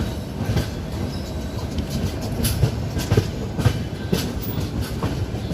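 The Indian Railways Telangana Express runs along broad-gauge tracks with a steady loud rumble, rhythmic clickety-clack of wheels over rail joints, and occasional faint wheel squeal, heard from on board.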